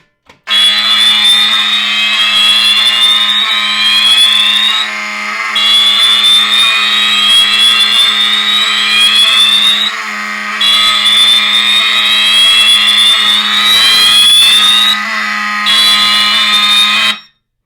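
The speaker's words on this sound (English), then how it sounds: "What you just heard was a Wheelock 7002T horn strobe, obviously doing continuous with its iconic skipping sound, and it's a very loud alarm." A Wheelock 7002T horn strobe fire alarm sounds continuously and very loudly, its harsh buzzing tone repeating in rising sweeps with an iconic skipping stutter and brief gaps, then abruptly cuts off.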